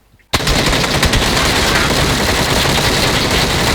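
Sustained automatic gunfire in PUBG during a firefight, erupting abruptly after a brief quiet moment and continuing as a loud, dense, rapid burst of shots close to the listener.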